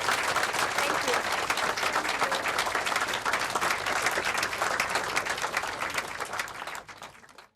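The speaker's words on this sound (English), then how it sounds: "Another round of applause for the women of the Hub Community Kitchen" Audience applause for the women of the Hub Community Kitchen after a lunch, a dense, steady ovation of many hands clapping close by that carries on for several seconds, then fades out at the end.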